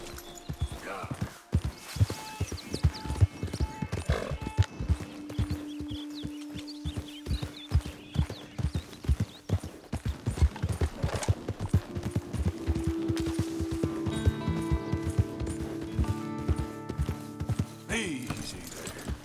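Horse hoofbeats in Red Dead Redemption 2, a fast rhythmic clip-clop of a horse at a gallop running throughout, with people talking over it and some tonal background sounds.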